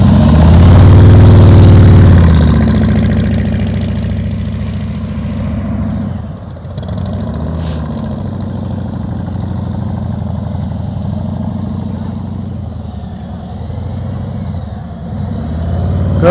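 A motorcycle engine runs steadily under light throttle during slow-speed riding practice, a loud continuous drone with low harmonics that swells early and then holds a rough, even rumble with slight pitch wobbles.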